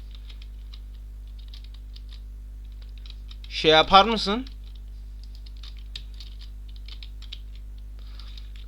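Keys clatter in quick, light taps on a computer keyboard during a Zula shooter game session, with close typing running under the session and a brief spoken question in the middle.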